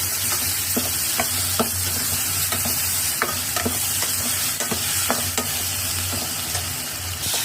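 Tomatoes sizzle in a frying pan and are stirred, with a spoon scraping and tapping against the pan in a regular rhythm over a loud, close, continuous frying hiss.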